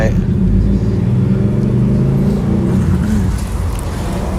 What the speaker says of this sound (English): the rear exhaust roars so loud